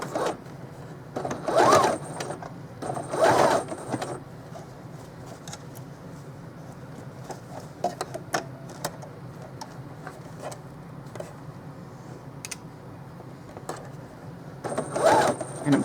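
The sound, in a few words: sewing machine stitching Dollar Tree placemats into a stocking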